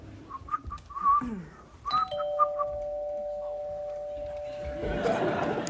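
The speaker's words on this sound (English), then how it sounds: "I'll be providing the noise, the doorbell noise, as they arrive." Short doorbell chime tones ring out several times amid chuckling voices, followed by a sustained electronic tone and a burst of noise at the end.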